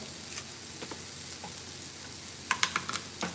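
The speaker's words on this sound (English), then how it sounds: "So I've got onion sauteing down." Onion sautéing in a pan in a home kitchen gives a quiet, steady sizzle, with a few light clicks and taps of stirring near the end.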